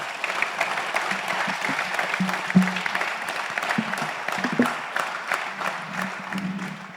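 An audience at a digital-industry panel on the metaverse applauds five panelists, sustained mid-level clapping spread across the room with a few scattered sharper claps.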